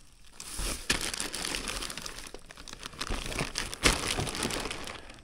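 Plastic packaging crinkles and rustles in bursts of handling while Tusk Excursion soft luggage is unpacked, close up and fairly loud with short crunching peaks.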